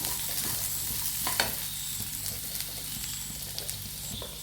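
Beetroot and dates stir-frying with ginger and garlic in oil for a mixed pickle, a steady close sizzle broken by scraping spoon strokes against the pan, with no voices.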